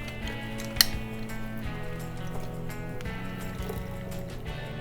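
Fresh lemon juice with zest poured into a mixing bowl for lemon bars, a continuous close liquid pour and gentle splashing that runs the whole time, with one sharp clink near the start.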